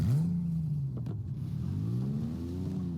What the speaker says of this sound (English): The Warthog actually sounds like a car.